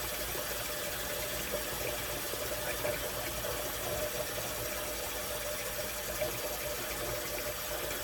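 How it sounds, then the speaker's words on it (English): Water trickling and splashing steadily into thick, slick shaving soap as it is worked into a lather, a continuous close hiss with no talking. "Just a little bit more water."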